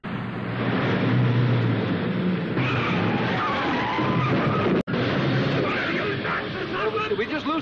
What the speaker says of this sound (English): I better test the brakes one more time